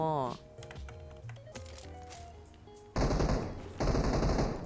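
Rapid automatic gunfire in PUBG Mobile aimed at a bot, two loud sustained bursts following layered game music and effects.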